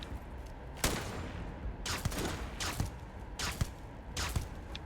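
Enemies firing on the player in the Starfield video game, with several sharp, loud gunshot cracks and short volleys at irregular intervals, close, against a steady low background rumble.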